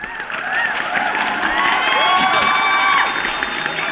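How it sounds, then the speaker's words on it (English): Canned crowd cheering and applause sound effect, a loud, continuous burst of whoops, shouts and clapping that swells in the middle and holds steady, with no speech over it. "let me give him a round of applause"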